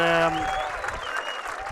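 Rugby league crowd at Odsal applauding and cheering as Bradford Bulls take an early lead over Wakefield Trinity in an 1895 Cup semi-final, a broad wash of clapping under a commentator's voice after a brief tonal sound opens it.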